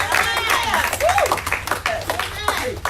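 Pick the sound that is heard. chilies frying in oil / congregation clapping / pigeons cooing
congregation clapping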